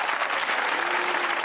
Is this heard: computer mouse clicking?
no